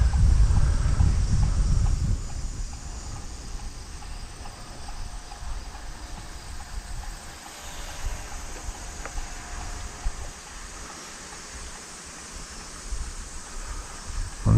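Steady outdoor wind rushes and buffets the microphone during a small HBZ1250 XCub 450mm RC airplane flight, a loud gust at the start settling into a continuous broadband roar.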